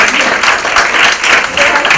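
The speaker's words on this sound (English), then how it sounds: "I think just a huge round of applause just for" A dense burst of audience applause at a panel discussion, with many hands clapping loudly and close for a couple of seconds, plus some crowd voices mixed in.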